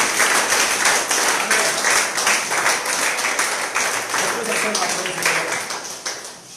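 Worshippers in a church clap loudly to acclaim the Lord, dense rhythmic applause mixed with voices and cheering before it begins to thin out at the end.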